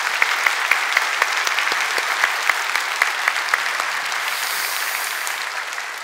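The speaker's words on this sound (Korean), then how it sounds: "우리 박수로 우리 주님께 영광을 올려드립니다" Sustained applause from a church congregation during a Korean Sunday worship service, dense steady clapping that fills the room and tapers slightly near the end, with no talking over it.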